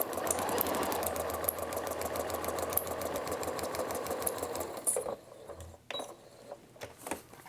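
A sewing machine stitches pieces of a quilt top along a quarter-inch seam in a rapid, even mechanical whir that runs for about five seconds. It then stops, leaving a few quiet clicks and handling noises, with no one speaking.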